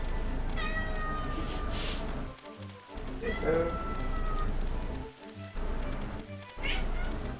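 Cat meowing in the online game Final Fantasy XI, several drawn-out mewing calls spread over a few seconds, sitting under background music and game noise.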